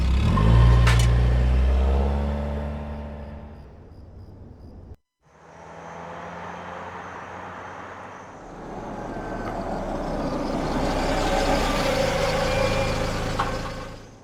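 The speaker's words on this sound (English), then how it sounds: "Man, that car sound horrible" Rough, poorly running car engine in the video game Beyond: Two Souls, a loud low rumble that cuts out briefly, then returns with a steady droning roar.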